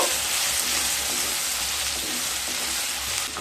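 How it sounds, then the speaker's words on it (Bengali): Turmeric and roasted cumin powder fry in a pan on low heat for a vegetable moong dal, a dense, even hissing sizzle that stays close and constant with no pauses. "এবার লো স্টিমে মশলাগুলোকে খুব ভালোভাবে কষিয়ে নেব"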